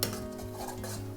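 Onions fry in a pan while being stirred toward deeper browning, a short spell of utensil scraping and light clinks over a quiet sizzle.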